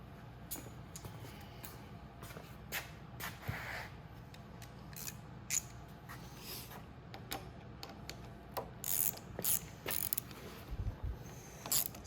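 Mechanical clicks and ratcheting bursts from tightening the front brake assembly bolts on a Venom 2000W E-Vader electric motorcycle, with short irregular clusters of sharp ticks close by against a quiet background.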